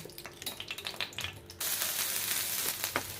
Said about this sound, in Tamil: சோம்பு பட்டை கிராம்பு ஒரு மராட்டி முக்கு போட்டிருக்கோம் கருவேப்பில் வெங்காயம் போட்டிருக்கோம் பொரிஞ்சிருச்சு